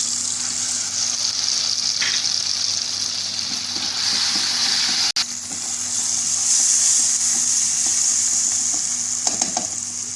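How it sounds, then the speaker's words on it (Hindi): Garlic and ginger fry with tomatoes and onions in a pan, a continuous close hiss and sizzle with occasional stirring scrapes and one sharp click midway. "अब ये लहसुन अदरक डाल रही हूँ।"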